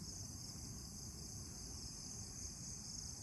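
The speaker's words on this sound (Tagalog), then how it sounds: "So maririnig nyo lang dito is kuliglig." Crickets chirp at night at a weekday campsite in Catanduanes, Philippines, forming a dense, steady high trill that runs unbroken and fairly faint, with no other sound over it.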